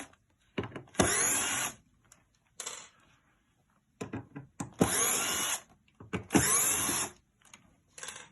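A power screwdriver removing screws from a uPVC door lock, running in three or four short whirring bursts separated by quiet gaps and faint handling clicks.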